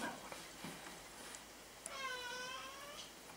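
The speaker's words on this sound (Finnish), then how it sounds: "Turpa kiinni, vitun kissa." A cat lets out a single drawn-out, wavering meow of moderate loudness over a hissy indoor background.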